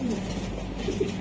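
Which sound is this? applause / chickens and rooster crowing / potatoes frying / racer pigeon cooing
racer pigeon cooing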